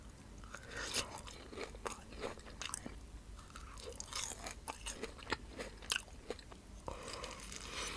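Close-up crunchy bites and chewing of a strawberry Dubai dessert with kunafa strands, steady soft mouth sounds and crisp crackles throughout, no talk.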